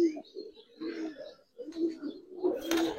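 A Giribaj pigeon coos close by, a few throaty rolling coos in short phrases with brief pauses between them.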